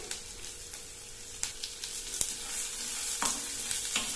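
Black urad dal dry-roasting in a pan, a steady crackly sizzle broken by occasional scraping stirs, close and moderately loud with no talk.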